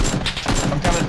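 Rapid bursts of gunfire from the battle royale game PUBG crack out in quick succession, loud and close, in short clustered volleys over about a second.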